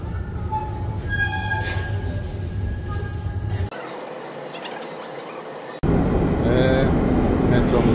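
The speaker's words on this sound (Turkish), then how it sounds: "Metromuz da geldi." An Istanbul metro train pulls into the station with a loud rumbling roar and high metallic wheel squeals, then an abrupt cut to a quieter stretch before the rolling noise returns loudly.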